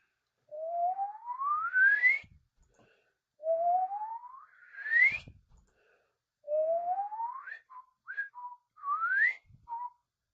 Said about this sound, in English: We got the whistle going on.